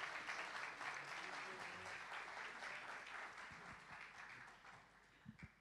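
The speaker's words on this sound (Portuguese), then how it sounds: "com uma salva de palmas" Audience applause in a church service, a broad continuous wash of clapping that starts strong and slowly thins and fades, with a few isolated sharper claps near the end, heard at a distance and fairly quiet.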